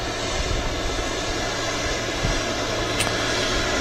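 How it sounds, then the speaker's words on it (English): A Qatar Airways Boeing 777 taxis past at Manchester Airport, its engines giving a steady, loud roar and broadband whine that holds evenly throughout, with no voices heard. "Here we go, the Qatar 777 taxiing past us."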